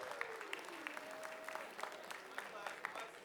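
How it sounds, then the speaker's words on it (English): Audience applause at a school Writers Week session, steady clapping from a room of students with faint voices running underneath, fairly quiet and distant. "Round of applause."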